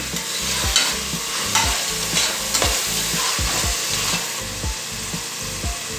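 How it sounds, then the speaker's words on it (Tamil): Tomatoes sautéing in a pan for chicken biryani, with a steady close sizzle and repeated scraping stirs in an uneven rhythm; no voices. "தக்காளி நல்லா வதங்கணும்"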